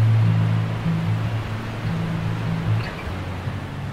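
Tumalo Falls, a 97-foot waterfall on Tumalo Creek in the Cascade Range west of Bend, roars as a steady broadband rush of falling water, continuous and fairly loud with a low rumble beneath.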